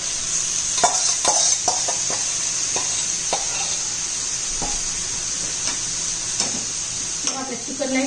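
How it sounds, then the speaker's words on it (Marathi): Marinated chicken for a dum biryani sizzling and frying in a pan, with steady close hiss and intermittent stirring scrapes and clinks of a utensil against the pan. "मॅरिनेट केलेलं चिकन आपल्याला त्यात घालायचं आहे."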